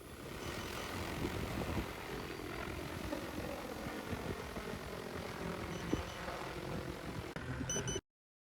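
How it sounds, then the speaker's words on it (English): An XAG agricultural drone flies overhead, its whirring propeller drone steady and loud for about eight seconds with no talk, then cuts off abruptly. "you can see now the aircraft is flying above me"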